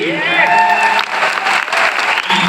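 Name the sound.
audience applause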